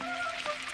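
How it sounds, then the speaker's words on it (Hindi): Heavy rain pours steadily in a Hindi-dubbed Doraemon cartoon episode, a continuous bright hiss with faint tonal music lines running beneath. "अरे ये तो पहले से भी ज्यादा बारिश हो रही है।"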